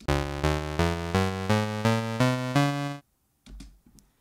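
Eight sustained tones step upward one after another in an even rhythm, forming an ascending C Phrygian scale, followed by a brief pause and a few soft noises.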